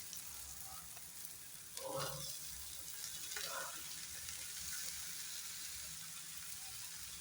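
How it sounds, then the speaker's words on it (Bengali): Boiled chickpeas fry with masala in a pan, giving a quiet, continuous sizzle with a couple of brief stirring scrapes partway through. "মশলার সাথে খুব ভালো মতো ফ্রাই করে নেব।"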